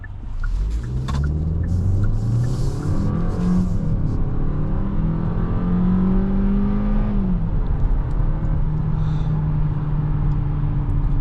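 A 2026 Kia K4 GT-Line Turbo hatchback accelerates hard in sport mode, heard from inside the car as the engine note climbs steadily, drops at a gear change and climbs again, loud and continuous.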